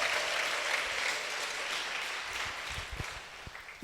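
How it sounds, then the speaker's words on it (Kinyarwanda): A church congregation in a worship service claps together for Jesus, a dense wash of applause that gradually thins and fades, leaving a few scattered claps and thumps at the end. "Muhereze Yesu amashyi yanyu, mumushimire"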